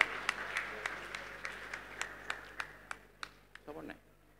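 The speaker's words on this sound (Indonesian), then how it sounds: "Tepuk tangan buat beliau, monggo." Sparse, scattered clapping from a small audience at a talk show, a dozen or so distinct claps ringing out in an irregular rhythm over a quiet room and fading away toward the end.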